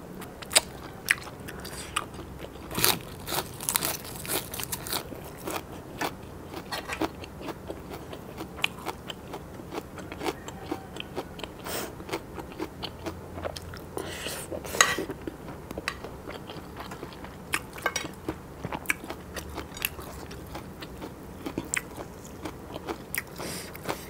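Biting and chewing on a stuffed grilled frog leg filled with herbs, with repeated close crunches, smacks and chewing sounds plus occasional utensil clinks against dishes, no talking.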